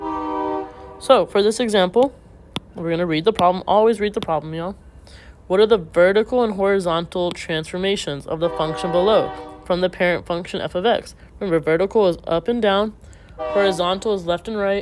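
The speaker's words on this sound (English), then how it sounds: "Sorry about the train." A train horn sounds outside a classroom, a sustained tone running faintly beneath a teacher's continuous algebra lecture.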